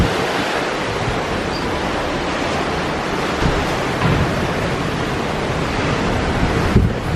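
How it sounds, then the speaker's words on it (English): Strong wind buffets the open deck of a cruise ship sailing rough seas off Alaska, a steady loud roar of gusts and waves with occasional microphone thumps and no voices. "Cool out here and the wind's blowing pretty good."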